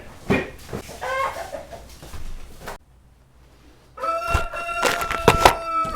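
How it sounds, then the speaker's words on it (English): Chickens cluck and squawk loudly and close by in a woodworking shop, in bursts of calls with a short quiet gap in between, mixed with occasional thunks. "Oh, I'm getting sick of these chickens."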